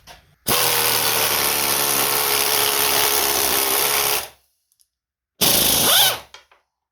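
A pneumatic air impact wrench running a 9/16 wobble socket from a VEVOR 3/8-inch drive impact set whirs loudly and continuously for about four seconds, then stops, and a second short burst follows, close up with no talk.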